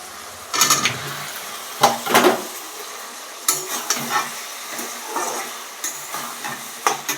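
Lightly pre-fried potato pieces drop into a hot pan with loud bursts of sizzling, followed by repeated close stirring scrapes and crackling frying throughout.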